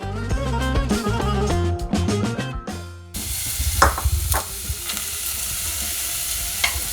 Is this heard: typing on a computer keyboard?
no